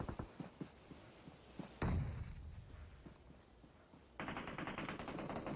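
Gunfire in a battle royale video game: bursts of shots, then a heavy impact and a rapid automatic volley near the end. The sound is moderately distant and has no speech over it.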